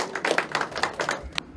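Audience applause at a lecture on Seongnam's history and culture, a short burst of sharp, fairly close claps in quick uneven rhythm that fades out after about a second and a half.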